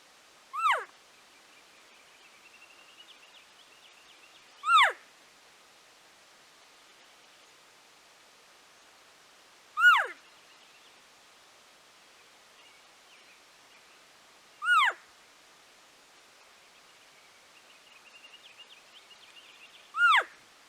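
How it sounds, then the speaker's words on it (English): Short, sharp high chirps from a diaphragm turkey mouth call, five evenly spaced bursts about five seconds apart over near-silence with faint breathy hiss between them. "now let's do the Chirps. Remember, shh, short burst of air."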